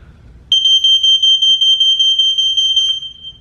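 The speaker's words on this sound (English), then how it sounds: "The smoke alarm rang. What a loud, piercing sound." A smoke alarm sounds loud and close, a piercing high electronic tone that starts abruptly and holds steady with a rapid pulsing flutter for about three seconds.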